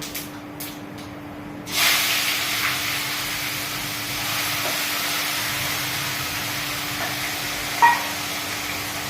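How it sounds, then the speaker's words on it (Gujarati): Spices and onion hit hot oil for a tempering, and a sudden hiss bursts in after a quieter start, then settles into a steady close sizzle with an occasional faint pop. "આ બધા મસાલા લીધા હતા કે લાલ મરચું હતું લવિંગ હતા બાદિયા થોડાક તલ લીધા હતા આપણે એનો પણ વઘાર કરી નાખીએ"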